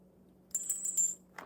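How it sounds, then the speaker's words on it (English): Small metal safety bells meant for a motorcycle give a quick cluster of light, tinkling jingles lasting about half a second, close and fairly quiet, with no talk. "These are little safety, be safe bells. And they go on your motorcycle."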